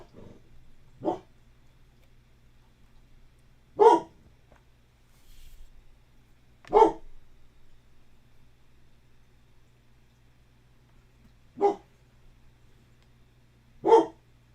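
Bella, a pet dog, barks five single sharp times, each bark spaced a few seconds apart, close and fairly loud over a steady low electrical hum.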